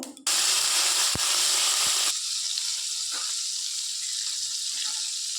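Chopped onion, ginger and garlic drop into hot oil in a wok with a sudden loud burst of sizzling, which eases after a couple of seconds into a softer, steady frying crackle.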